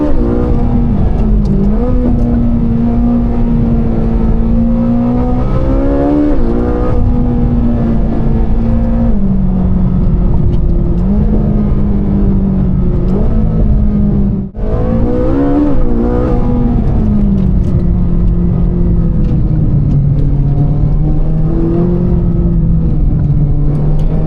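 A Ferrari 458 Speciale engine and valved exhaust pull hard while driving, loud and close, with repeated rising revs through the gears and one brief dip around the middle, and no talking.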